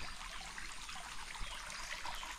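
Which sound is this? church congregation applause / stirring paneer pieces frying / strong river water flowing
strong river water flowing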